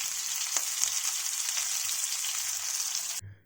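Chicken patties frying in a pan, a dense, even sizzle that holds steady and close for a few seconds and then cuts off abruptly near the end, with no voices.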